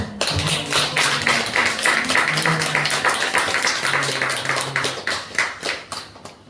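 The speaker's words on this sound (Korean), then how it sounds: "우리 박수로" Church congregation clapping during a Sunday morning service to welcome visitors, a fairly close round of hand claps from a modest group, with some speech underneath, thinning out at the end.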